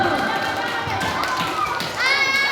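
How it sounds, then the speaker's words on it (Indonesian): Children applauding team A at a school religious-knowledge quiz contest, brief scattered clapping mixed with lively kids' voices and chatter in a room. "Beri aplaus dulu tim A."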